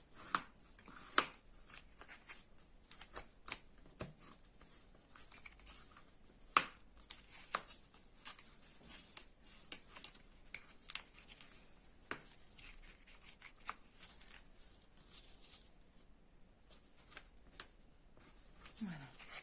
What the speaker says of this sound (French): Nous pouvons désormais marquer nos plis.